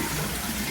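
Water splashes and trickles from leaking plumbing, a close, continuous gurgling rush with no voices over it.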